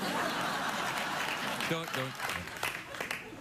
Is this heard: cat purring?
no